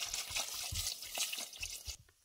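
Water splashing and trickling into a cooking pot in an outdoor dirty kitchen, a short run of close, wet pours and drips that stops abruptly near the end.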